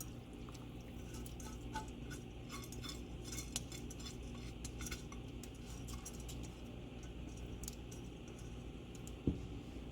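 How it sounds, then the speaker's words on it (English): Two cups of rice pour into a cooking pot for Jamaican callaloo rice, a steady close patter of grains hitting metal with scattered bright ticks and one sharper knock near the end. "This is 2 cups of rice, so I'm just pouring the rice into the pot"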